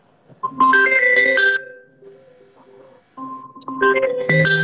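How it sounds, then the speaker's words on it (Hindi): A loud melodic ringtone plays a short tune twice, with a pause between the two rings. "रुको कहीं वो सेलिब्रिटी का फोन मुझे तो नहीं आ गया है"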